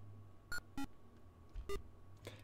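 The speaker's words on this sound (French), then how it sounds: "ça va-tu faire bip à chaque fois?" Short electronic beeps from a Dragon Quest video game, four brief faint blips at irregular spacing over a quiet background.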